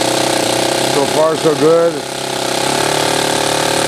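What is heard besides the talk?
Saito twin model engine running as throttle is advanced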